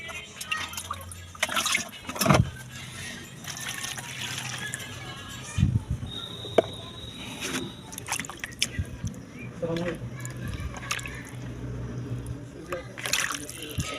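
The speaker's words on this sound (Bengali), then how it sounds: "একটু হালকা পানিতে জাস্ট খলায়া এখন আমি এগুলো সিদ্ধ করতে দিয়ে দিব" Meat being rinsed lightly in a little water gives intermittent close splashes, squishes and drips, with a voice faintly present in the background.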